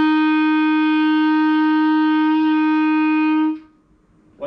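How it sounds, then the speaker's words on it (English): A clarinet holds a steady F, the left thumb fully covering the back hole, sounding clean and even for about three and a half seconds before stopping. "So make sure your F, with your left thumb completely covering it, sounds like this."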